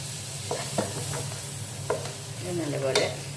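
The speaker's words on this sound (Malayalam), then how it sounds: "നല്ലപോലെ വഴന്ന് വരുമ്പോൾ ഇതിലേക്ക് നമ്മുടെ തക്കാളി ചേർക്കാം" Tomatoes stirred into sautéed onions frying in a pan for chicken machboos, an even sizzle broken by several scraping stirs of a spoon, close up with no speech.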